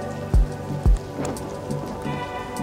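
Steady rain patters throughout, with two dull low thumps early on and occasional drips standing out against the wash.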